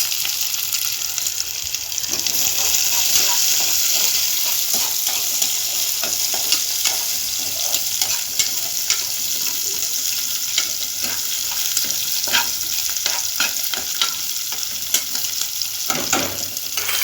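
Onion and garlic frying in a pan with fenugreek and cumin for a Tamil kuzhambu, a loud continuous close sizzle with repeated scraping stirs throughout, no voices.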